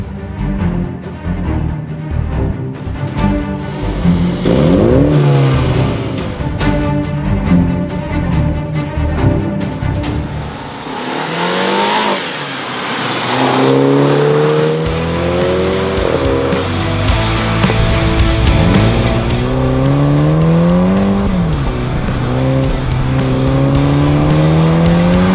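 A 2022 Mini JCW drives along, its engine note loud and close as it revs up and shifts through rising and falling sweeps, with brief tyre noise along the way and no talking.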